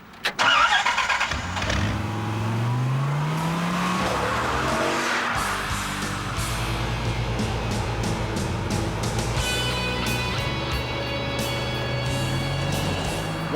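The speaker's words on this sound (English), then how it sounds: "Chrysler is talking about this, the Viper, a 166-mile-an-hour, 8-litre Leviathan" A 1994 Chrysler Viper with an 8-litre engine starts and drives, its loud engine note rising and falling through revs with tire noise as the open sports car accelerates.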